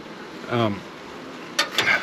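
Honeybees at a home hive during a weekly check give a brief, faint buzz up close, followed by a few sharp handling clicks and scrapes.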